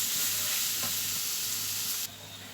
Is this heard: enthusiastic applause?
no